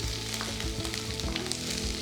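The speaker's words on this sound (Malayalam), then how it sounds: "ഇതെല്ലാം കൂടെ ഒന്ന് വഴറ്റിയെടുക്കുക." Sliced onions, green chilies and sliced garlic sauté in a pan for a roasted-coconut chicken curry, with a loud, dense sizzle and crackle up close and a few faint stirring scrapes.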